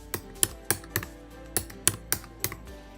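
Keys tapped on a computer keyboard while a password is entered, about ten crisp, close keystrokes in an uneven rhythm with short pauses and no talking.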